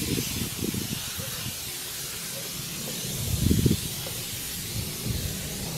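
A spray bottle of diluted water-based odor remover mists the interior of a Corvette C5 in a few short soft hissing bursts, one louder puff near the middle, over a steady airy background.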